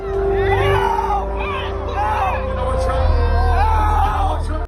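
Dense, loud concert crowd with screaming and shouting voices blending into a constant roar, captured up close on a fan's phone amid the packed audience.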